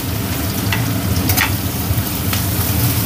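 Curry leaves sizzle and crackle in hot oil with onion and garlic in a home kitchen pan. The frying hiss is loud and continuous, with a few sharper pops and stirring scrapes on top.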